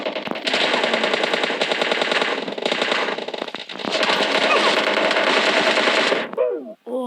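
Loud, close automatic gunfire in PUBG Mobile Lite comes in long rapid bursts with brief gaps, ending in a short pause and a final crack.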